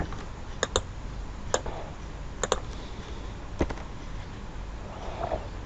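Sparse keyboard key presses, as in pressing Ctrl C and Ctrl V to copy and paste, sound as a handful of sharp clicks, some in quick pairs, spaced across a steady background hiss.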